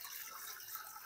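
Water pours into a pot in a kitchen, ready for boiling half a kilo of rice. A faint, continuous splashing hiss runs through the brief moment with no talking.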